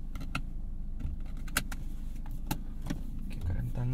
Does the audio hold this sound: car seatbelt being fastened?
yes